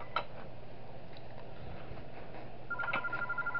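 A telephone in the Those Nights at Wario's 3 video game gives short electronic tones over a steady low hum, with a beep near the start and a sustained tone toward the end.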